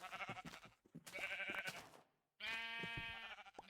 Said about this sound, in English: Okay, there are a lot of sheep here.